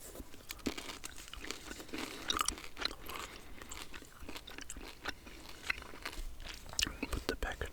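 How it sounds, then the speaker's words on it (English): Gum is chewed close to the mouth with soft wet smacking and clicking, steady and continuous, mixed with quiet whispering and faint rustling. "I'll pop that in my mouth as well and continue chewing."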